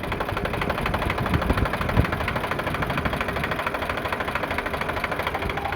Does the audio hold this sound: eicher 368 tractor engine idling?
yes